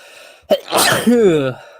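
A single sharp sneeze close by: a quick intake of breath followed by a loud burst, then a short voiced trailing sound.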